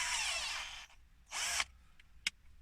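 A power drill fitted with a screwdriver attachment whirs close by in two short bursts while driving screws into a car's steering binnacle, followed by quiet clicks and a sharp tap.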